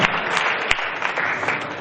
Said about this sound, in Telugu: clap him right now